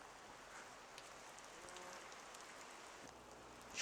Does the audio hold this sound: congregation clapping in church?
no